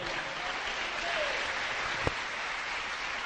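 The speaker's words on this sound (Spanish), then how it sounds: "Den un aplauso al Señor." Steady congregation applause at a church service, dense and even clapping for about three seconds with a faint voice briefly audible within it.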